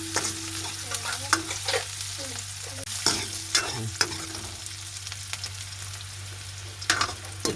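Cut dried red chillies sauté in a pan with a steady low sizzle, while a spoon stirs and scrapes in irregular bursts throughout; no one speaks.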